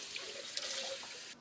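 Water runs steadily from a faucet into a sink while dishes and kitchen equipment are rinsed, a close, continuous splashing hiss with faint drips, cutting off at the end.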